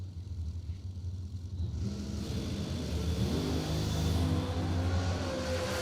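Supercharged blown drag racing car launching and accelerating down the strip, a loud sustained roaring engine that swells and stays strong through the run, with a broad rumbling low end and no talk over it.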